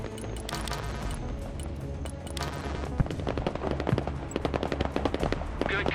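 Rapid machine gun bursts in the Broken Arrow military strategy game, steady automatic fire with sharp shots cutting through a dense battlefield mix of explosions and radio chatter.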